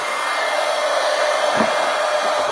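A hair dryer blows steadily at close range while drying a collage poster, a constant loud whooshing hum with a brief low bump midway and no talking.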